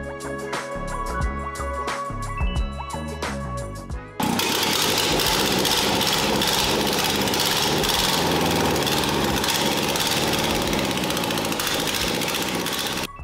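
Carbureted Porsche engine on a go-kart, idling with a rough low rumble that jumps to a loud, dense, steady roar, held close and continuous.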